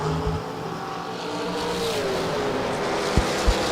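Drag race cars roar off the line at a season kick-off meet, including Bill Powell's 1990 Mustang, with a loud engine note sweeping upward and a couple of sharp bangs near the end.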